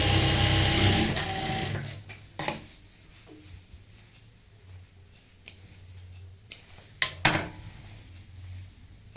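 A sewing machine stitching a lace-trimmed sleeve: a loud whirring run fades within the first couple of seconds, followed by scattered sharp clicks and taps from handling, with no talk.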